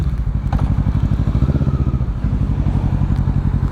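A Kawasaki ER6N motorcycle fitted with an aftermarket Akrapovic exhaust rides along a road, its twin-cylinder engine thumping in a deep, steady, loud burble close by, with no talk over it.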